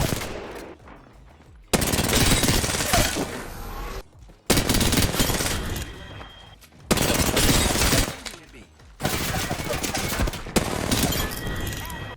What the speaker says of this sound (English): Here's an example of your strafing when you're hip firing.